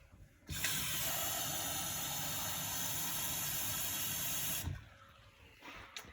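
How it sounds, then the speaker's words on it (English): Tap water runs into a cup at a kitchen sink, a steady close hiss that starts abruptly, holds for about four seconds and then cuts off, with no talking over it. "I'm going to turn the water on."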